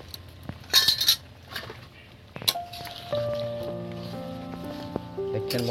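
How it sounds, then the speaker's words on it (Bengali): A bowl and spoon being washed, with bright metallic clinks and knocks against the dish, a few splashy rattles early on, then a sustained ringing tone under further scattered taps. "বাটিটা ভালো করে ধুয়ে নিতে হবে"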